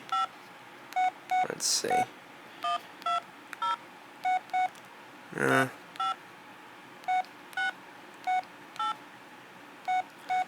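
A cheap basic mobile phone's keypad gives a steady series of short, evenly spaced beeps as its buttons are pressed, with someone speaking briefly between them.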